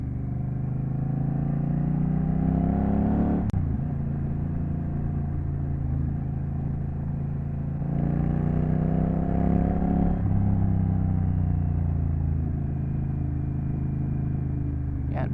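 A Honda Rebel 1100 motorcycle engine drones steadily while riding on backroads, with a loud low rumble that shifts pitch as it accelerates and eases off, plus brief clatter near the start.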